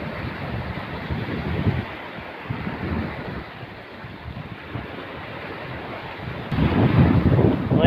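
Strong wind buffets the microphone over the steady wash of rough, building sea waves, a continuous roaring rumble that swells louder near the end, with no talking.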